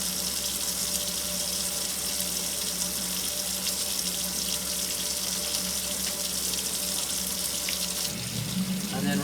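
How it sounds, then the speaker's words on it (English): Hands being scrubbed and rinsed under a running kitchen tap during food-bar production, a loud, continuous rush of water that stays steady throughout, with a brief change in the splash near the end. "We want to scrub in between our fingers for at least 45 seconds."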